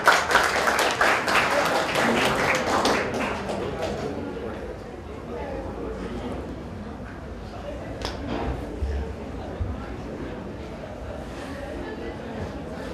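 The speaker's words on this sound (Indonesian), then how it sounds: "Jadi aplaus dulu buat Bang Mirza." Applause for Bang Mirza at a Halal Bi Halal gathering of YKM FEUI fills the first few seconds as a dense, lively clatter of many hands, then fades into murmuring room chatter and voices.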